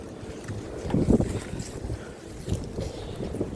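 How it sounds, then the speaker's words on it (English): Strong wind gusts roar and buffet the microphone outdoors, a steady low rumble with a louder surge partway through and no talking. "Hey, it's really windy."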